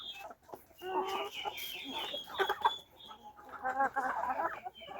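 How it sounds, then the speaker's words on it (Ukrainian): Several Mikhalenska Zozulia chickens cluck and squawk close by in overlapping bursts, a busy farmyard chatter of hens. "Кури породи Михаленська зозуля."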